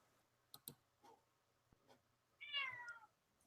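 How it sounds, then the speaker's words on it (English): Cat meowing once, a faint, somewhat distant drawn-out cry after a few soft clicks and taps in a quiet room. "Oh my gosh, cats! Cat!"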